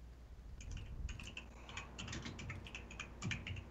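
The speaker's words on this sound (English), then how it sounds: "I'm typing letters and things are happening." Rapid, continuous typing on a computer keyboard while entering a song title and text into a game, with dense, close, fairly even clicks and no voices.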